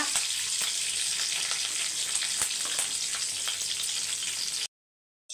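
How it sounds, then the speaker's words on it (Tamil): Curry leaves and a single pinched green chili frying in hot oil for a tempering, giving a loud, steady crackling sizzle with sharp pops for several seconds before it cuts off abruptly. "பொரியட்டோம் அது கூடிய கருவேப்பிலை ஒரே ஒரு பச்சை மிளகாவை கிள்ளி போட்டுக்கோங்க"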